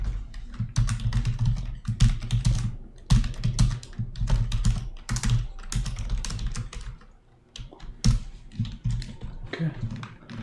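A computer keyboard typing code comments, a steady dense rattle of keystrokes with a brief lull near the middle, close and clear, with no speech.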